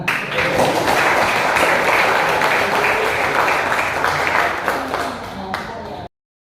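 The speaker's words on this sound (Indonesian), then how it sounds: "mari semua tepuk tangan" A crowd at a business gathering for a nursery company claps loudly and continuously, a thick wash of many hands that fades toward the end before cutting off abruptly.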